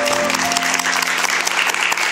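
An audience claps after a lecture and a performance at a special lecture show, giving dense, sustained applause throughout with faint tonal hum underneath.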